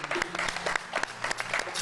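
A studio audience applauds a debater on a television debate show, a short burst of dense, close clapping with voices mixed in.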